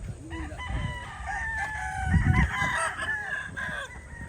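Local banded chickens on a farm, with a rooster's drawn-out crow ringing close and clear over soft clucking and background farmyard murmur.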